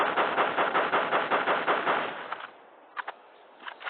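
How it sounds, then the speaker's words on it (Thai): Rapid automatic gunfire from a weapon in the zombie defense game Flat Zombie, a steady burst of evenly spaced shots lasting about two seconds, followed by a few isolated pops. "แต่มันยิงรัวได้นั่นแหละข้อดีที่จำเป็นมาก"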